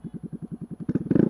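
A Honda Grom motorcycle fitted with an MNNT HBX exhaust idles close by in a rapid, even thumping pulse, then revs up louder and rougher toward the end.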